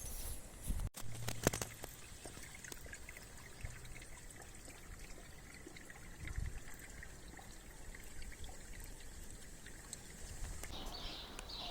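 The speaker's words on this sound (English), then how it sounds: "it's just started raining" Rain beginning to fall outdoors on a homestead, a soft steady patter and trickle of water running throughout, fairly faint with a few small knocks and handling sounds, and no talk.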